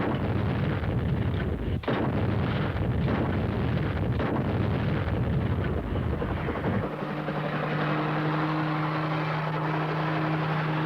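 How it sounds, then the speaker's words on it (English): Artillery fires with shells whizzing overhead, making a continuous rumbling barrage of booms and roaring noise. It gives way to a steady droning engine hum near the end. "Flying through airspace full of your own whizzing artillery shells is considered bad form."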